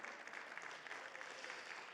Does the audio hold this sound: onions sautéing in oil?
no